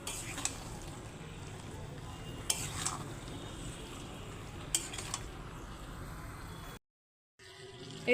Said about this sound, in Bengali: অনেকটাই হয়েছে মাংস এখন এবার আমি ভালো করে কষিয়ে নেব